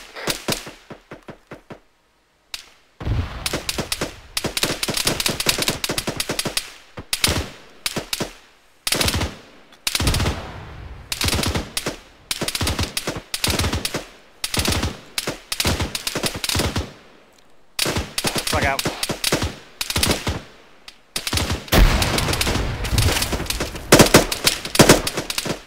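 Machine gun fire in long, loud, close bursts separated by brief gaps, sustained automatic volleys repeating throughout with no voices.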